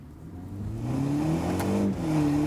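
A 2020 BMW 228i xDrive M Sport with a 2-liter engine revs through its exhaust, a rising, burbly mid-pitched tone heard up close with no talk.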